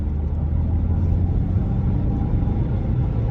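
A DPF-remapped car pulls hard in third gear at about 40 mph, a loud steady low engine rumble and road drone heard from inside the cabin.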